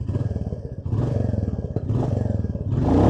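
A motorcycle engine revs through its exhaust, rising in short bursts between throbbing idle, close and loud, with the last rev climbing highest; no voices.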